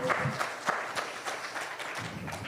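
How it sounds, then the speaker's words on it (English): An audience applauds at a veteran landlord appreciation awards ceremony, a steady wash of many hands clapping together at close range, continuous and fairly even throughout. "So can we give a round of applause for the individuals here"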